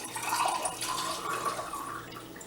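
A close, moderate stream of liquid runs into a container with a gurgling fill tone, then thins out and eases off toward the end, no voices present.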